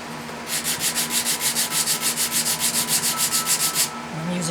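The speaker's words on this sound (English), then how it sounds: "I'm using 80 grit sandpaper." Wood inlay being sanded by hand with 80 grit sandpaper on a flat surface, a rhythmic back-and-forth rasping of about twenty even strokes, close and clear with no talk.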